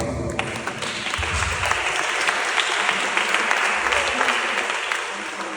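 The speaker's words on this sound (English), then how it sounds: "Please give him a round of applause." Sustained audience applause at a student leadership conference, dense and steady for several seconds, with crowd noise mixed in.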